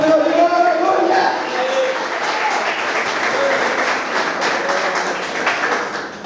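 A church congregation claps during a Pentecostal-style sermon, a sustained, even burst of hand claps that fades slowly, with a preacher's voice audible at the start.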